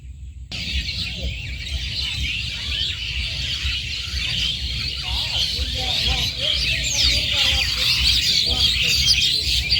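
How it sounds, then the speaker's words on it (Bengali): Birds chirping from trees near a village river at sunset, many high bright twitters forming a continuous chorus over a low rumble, with a voice faintly in the background. "পাখিগুলো একদম দূর থেকে মাথার উপর দিয়ে যাচ্ছিল আর গাছের উপর গিয়ে বসে অনেক কিচিরমিচির করছিল"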